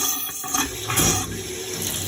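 Water gushes from a tap in an old cold barn, a steady hissing splash that stays close and continuous for a couple of seconds with no voices.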